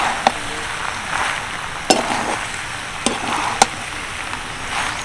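Pasta with grated cheese is mixed in a pan: a soft continuous sizzle and stirring rustle broken by four sharp knocks of the utensil against the pan.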